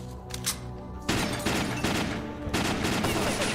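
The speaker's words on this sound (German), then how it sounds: "Knallt ihr mich jetzt ab? Ja, das tun sie." Enemy gunfire in the shooter game Stalker Lost Alpha crackles in rapid, loud bursts, with a sharp volley at about one second and another at two and a half seconds, faint talk underneath.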